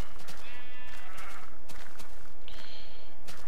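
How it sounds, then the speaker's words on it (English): Two Minecraft sheep bleats, wavering and nasal, with a pause between them, the second higher and steadier; synthetic game-style sounds, no talking. "I'm gonna wanna kill these sheep."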